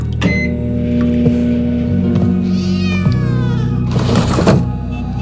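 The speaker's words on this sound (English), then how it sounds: "Oh, that's a cat." A cat meows in The Operator video game: a single clear, drawn-out meow with a rising-falling pitch near the middle, over a steady electrical hum, with a few soft knocks and a burst of noise afterward.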